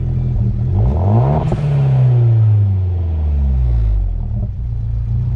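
A car engine revs up sharply, its pitch climbing and falling in a couple of loud surges before settling back to a throaty idle.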